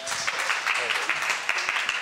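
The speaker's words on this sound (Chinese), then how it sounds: "让我们掌声欢迎。" An audience at a civic media forum claps to welcome a speaker, a moderate patter of many hands that stays fairly even and somewhat distant throughout.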